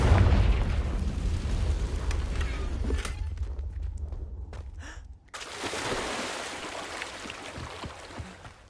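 Confringo blasting curse explosion in Hogwarts Legacy, a heavy rumbling boom that fades into quiet crackles and small pops, then another burst of blast noise swells back up.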